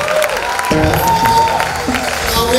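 Church congregation applauding the worship singers at a live prayer session, steady clapping blended with lingering sustained music tones, loud and close, no clear speech.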